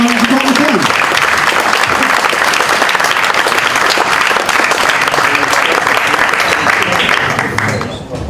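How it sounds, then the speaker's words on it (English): A fans forum audience claps loudly and continuously for nearly the whole stretch, and the applause tapers off right at the end. "can you please give a round of applause for our chairman, MacAnthony, and our first team manager, McCann"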